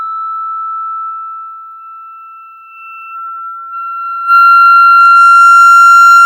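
A pure sustained tone driving a Chladni plate slowly changes pitch, dips in loudness, then suddenly swells louder and buzzier with strong overtones near the end as it hits a resonant frequency.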